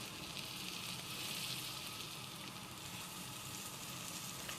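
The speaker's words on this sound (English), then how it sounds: "Wow, look at that sizzle." Paratha dough fries in a hot pan with a steady, close, crackling sizzle, a soft hiss that runs evenly throughout with no voices.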